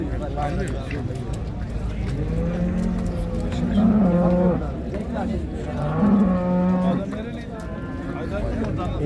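Cattle at a busy livestock market in Şarkışla, Sivas, Turkey: two loud, close moos rise over steady crowd chatter and murmuring voices, with constant background bustle throughout.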